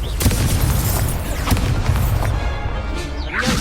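The Confringo explosion spell in the Hogwarts Legacy video game sets off loud, continuous booming blasts and crashes that fill the whole stretch, dense and close.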